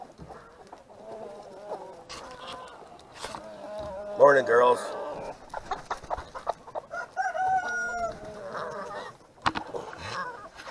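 Chickens rush out at breakfast time on a farm with goats, clucking and squawking in a busy jumble while a rooster crows once, loud and close, and a person speaks briefly.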